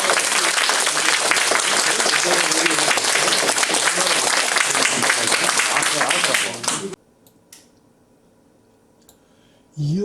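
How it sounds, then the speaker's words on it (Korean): Loud, dense audience applause welcomes veterans at a veterans' association year-end party, sustained for about seven seconds with a voice over it before cutting off into near silence, then a voice returns at the very end. "여러분 큰 박수로 환영 박수 좀 부탁드립니다."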